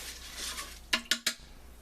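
Cumin seeds stirred into jasmine rice inside a rice cooker pot, three quick scraping clinks of a spoon against the pot after a soft rustle, close and fairly quiet.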